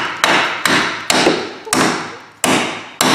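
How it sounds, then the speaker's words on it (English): Hammer blows on the rear drum brake of a Ford Ranger, six sharp metallic strikes at an uneven pace, loud and close with ringing decay between hits. "Get a hammer."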